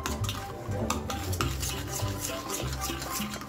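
A spoon stirring malai with dry fruits, cardamom and sugar in a bowl, close continuous scraping and mixing with soft thuds and rhythmic strokes throughout.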